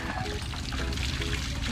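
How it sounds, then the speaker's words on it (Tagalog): A strong flow of water gushes from a household tap, carrying sand with it, a steady rushing pour heard close up while people talk excitedly over it. "Ah, pakalakas ng tubig."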